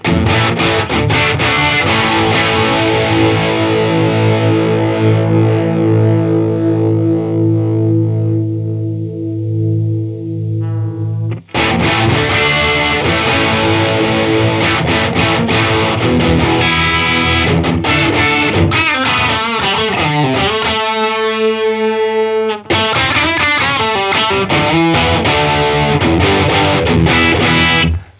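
An electric guitar runs through a UAD flanger modeled on a famous guitarist's unit, giving sustained distorted chords a sweeping, swirling modulation that rises and falls, loud and alone, with a short break and a changing riff midway.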